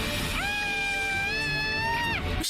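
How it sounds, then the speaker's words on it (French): A TV-show crowd screams and cheers in a sustained, shrill chorus of voices rising and holding for about two seconds before cutting off. "Il arrive quoi avec les cris là?"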